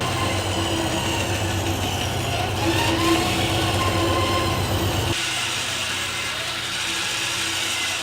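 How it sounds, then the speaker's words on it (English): A woodworking machine milling an old Christmas tree trunk into a block, a loud continuous droning whir with steady hum that drops in pitch and eases off partway through. "Take and mill this into a block."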